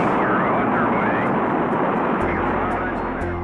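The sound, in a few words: rocket liftoff in a played recording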